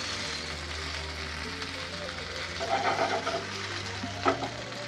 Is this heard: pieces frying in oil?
yes